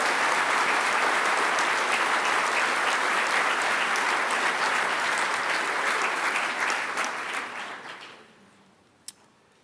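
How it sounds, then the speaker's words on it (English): Audience applause for Chemical and Pharmaceutical Science graduates at a GMIT graduation ceremony, sustained dense clapping in a large hall that fades out near the end, followed by a single sharp knock. "Can I ask the graduates of the Bachelor of Science in Chemical and Pharmaceutical Science programme to please stand to receive their applause"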